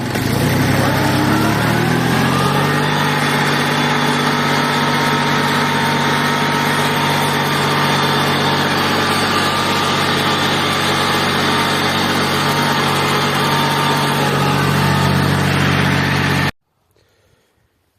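Tractor engine under heavy load while ploughing virgin land with front-wheel drive engaged, a loud, steady droning roar with rising revs early on, running continuously close by until it cuts off abruptly near the end.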